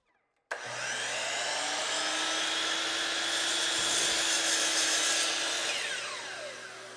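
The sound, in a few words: chop saw cutting cherry board in half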